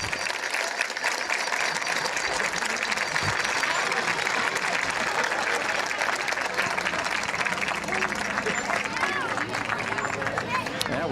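Crowd at a high school football game, Mangum versus Thomas, applauding an injured player: sustained dense clapping and crowd noise throughout, fairly loud and steady, with voices mixed in.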